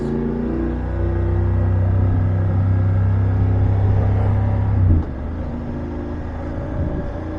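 A car passes close by on the road, its engine rumble swelling loudly and then dropping away sharply as it overtakes, with a steady motorcycle engine drone continuing underneath.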